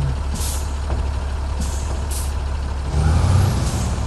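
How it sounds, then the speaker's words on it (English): A heavy truck engine rumbles low and steady in the SnowRunner video game, with brief hissing bursts of air and a slight rise in loudness near the end, no talking. "Starting engine."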